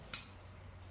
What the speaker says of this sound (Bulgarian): Ножицата режи перфектно